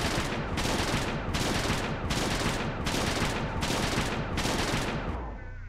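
Rapid rifle fire from the video game Lisa the Joyful, six dense bursts in a steady rhythm, loud and harsh, with a short tail as the shooting stops.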